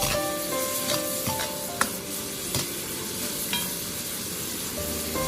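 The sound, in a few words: stir-frying small river prawns in a wok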